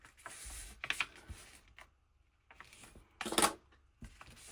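Old antique book paper being folded by hand, giving a few short crisp rustles and crinkles spaced apart, close and fairly quiet, with no talking.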